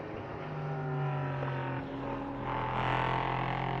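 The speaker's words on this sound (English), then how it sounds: "now the LMP3 prototype from ARC Bratislava starts its first flying lap" An LMP3 prototype race car from ARC Bratislava on its flying lap at Slovakia Ring during an FIA CEZ endurance event. The engine is heard from a distance, a faint, steady drone that rises as the car accelerates.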